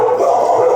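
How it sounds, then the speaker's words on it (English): Dogs indoors give a brief, fairly loud whining, howl-like vocalisation lasting under a second. "Excuse my dogs."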